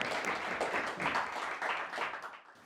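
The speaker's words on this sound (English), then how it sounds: "Can we have a round of applause for him?" An audience at an interview event about startups and real estate gives a continuous round of applause, dense and even, with a brief fade near the end and no talking.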